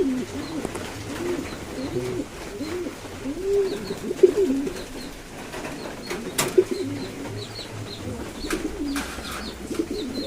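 Fancy pigeons in a loft during the rainy season, soft repeated throaty cooing from several birds close by, with occasional wing flutters and light background noise.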